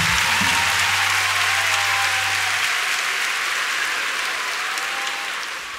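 Live audience at a concert in Osaka applauding a comedy act, a dense, steady wash of clapping that holds loud throughout and eases slightly at the end, with a brief low hum near the start.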